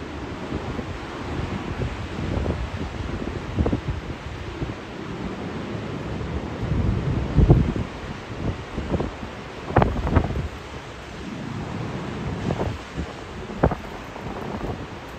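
Ocean surf at Virginia Beach rolls in under heavy gusting wind buffeting the microphone, with irregular wave surges and no voices.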